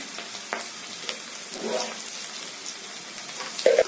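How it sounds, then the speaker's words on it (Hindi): Onions frying in a pan for mushroom masala, a close, steady crackling sizzle with occasional light taps of a spoon and a louder clink at the end. "पियाज भाजी गलानी।"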